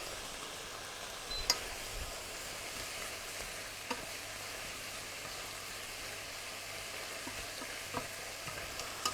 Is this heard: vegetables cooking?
yes